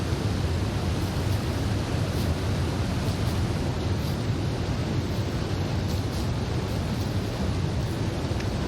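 A roaring waterfall in the video game The Long Dark pours without pause, a thick, unbroken wash of falling water filling the foreground, loud and even from start to finish, no voices present.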